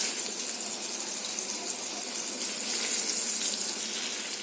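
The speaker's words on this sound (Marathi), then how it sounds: "आता तेल तापलंय, आपण एक एक हे आता सोडूया" Pieces of pomfret fish slipped into hot oil in a pan, giving a steady, even sizzle and crackle that holds for several seconds with no voices.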